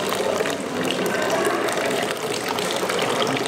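Water from a hot mineral spring in Karlovy Vary gushes and splashes steadily nearby, a continuous bubbling flow with no pauses.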